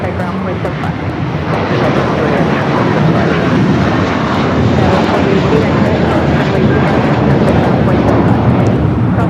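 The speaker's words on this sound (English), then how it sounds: "1687 taking off to Dallas, Fort Worth on the A321" An American Airlines A321 airliner bound for Dallas–Fort Worth takes off at LAX with a loud, sustained jet roar that swells and holds, while people talk over it.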